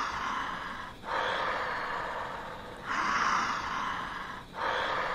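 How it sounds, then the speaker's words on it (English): Creepy breathing in the video game Grim Tales: The Stone Queen: slow, heavy breaths drawn in and out, three long swells of airy rasping separated by short pauses, steady and close without speech. "The breathing was not there in the castle, but it's here now."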